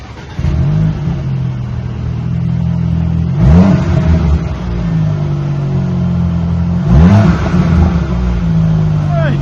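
A 2019 Audi Q5 with its rear muffler deleted, revving loudly at close range: a steady deep idle rumble broken by two sharp throttle blips that swell and fall back, with a voice heard briefly.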